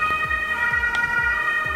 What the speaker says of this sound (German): Lauter Krankenwagen.